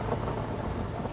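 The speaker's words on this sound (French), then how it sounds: "C'est le tonnerre" Thunder rumbles through a windy storm outdoors, a dense low roar filling the whole moment with steady rain-like noise and no distinct single crack.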